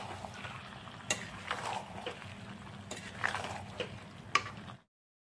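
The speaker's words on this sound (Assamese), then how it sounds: "ভালদৰে মছলাখিনি ধুনীয়াকৈ মুৰ্গী মাংসৰ লগত মিক্স কৰি দিলোঁ" Chicken with spices stirred in a frying pan, a spoon scraping and clinking against the pan with a few sharper knocks over a low sizzle, ending abruptly.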